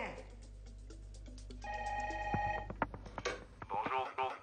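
Telephone ringing with a repeating electronic tone pattern, mixed under dialogue and background music in a dubbed comedy film.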